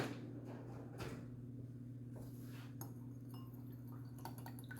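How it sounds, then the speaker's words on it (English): Whisking batter with a beaten egg in a bowl for mini muffins: irregular glassy clinks and soft wet scrapes, close by, over a steady low electrical hum, with no talking. "We're gonna actually whisk this because I can."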